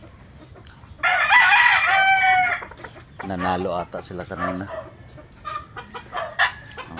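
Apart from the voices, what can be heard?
fighting roosters crowing and clucking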